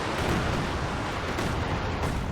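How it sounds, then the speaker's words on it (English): A Panzerwerfer rocket artillery shot in the Company of Heroes 2 video game, heard as a dense, loud, continuous roaring rush of noise with no break. "Avoids that Panzerwerfer shot as well."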